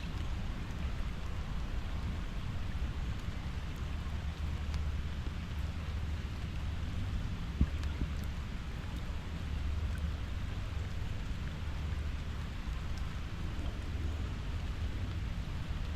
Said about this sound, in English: Enjoy the sounds of raindrops.